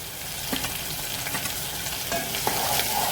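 Onion, garlic and chili fry in hot oil with hing, a steady close sizzle broken by a few sharper crackles and stirring scrapes, with no talking.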